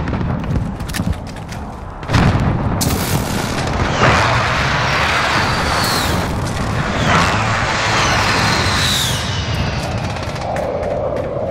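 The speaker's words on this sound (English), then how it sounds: "Be advised, friendly precision airstrike inbound." A precision airstrike in Call of Duty Modern Warfare hits with heavy, loud booming blasts, one after another, and the rumble rolls on and falls away between the hits.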